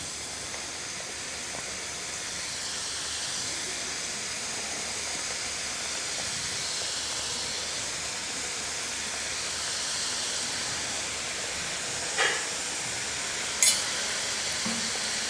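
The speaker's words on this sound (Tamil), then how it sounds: "இப்போ எண்ணெயில் பொரித்து எடுத்துக்கலாம்." Somas pastries deep-frying in hot oil over a low flame, a steady, even sizzle and hiss that holds throughout, with a couple of brief sharp ticks near the end.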